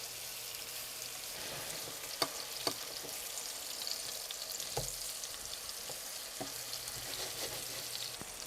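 Soft banana pieces fry in a pan for a sweet dessert, with a constant hiss and a few scattered taps and scrapes as they are turned over on lowered heat; no voices.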